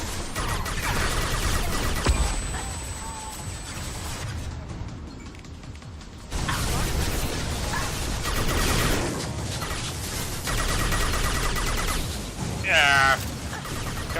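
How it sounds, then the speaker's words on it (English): Flashbang grenades and gunfire crackle in a Mass Effect 2 firefight, a dense, continuous wash of shots and bangs with a short quieter stretch midway and a sharp burst near the end. "Watch out, flashbangs!"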